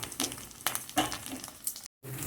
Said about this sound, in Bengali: এই যে দেখো, এই যে বড়াগুলো ভাজছি